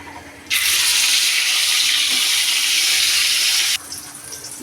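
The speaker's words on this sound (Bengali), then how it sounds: "এখন আমি মাছ ভাজবো" Fish frying in a pan during home cooking of a Bengali lunch: a loud, steady broadband sizzle starts abruptly, holds for about three seconds and cuts off, with quieter kitchen background before and after.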